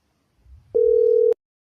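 A phone call tone played over speakerphone: a single steady, pure beep lasting just over half a second, fairly loud and clean, after faint low background noise.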